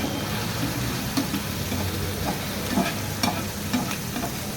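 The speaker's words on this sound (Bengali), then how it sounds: "মাছগুলো হলুদ মরিচ আর লবণ দিয়ে আমি হালকা করে মাছগুলোকে ভেজে নিচ্ছি।" Fish coated in turmeric, chilli and salt sizzle steadily in hot oil in a pan, with a busy crackling hiss and occasional stirring or scraping sounds from close by.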